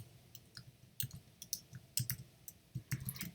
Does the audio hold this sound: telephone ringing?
no